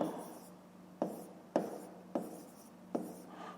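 A pen writes out a fifth-grade math solution on paper in five distinct strokes, each a short scratch that fades out, set in a quiet room.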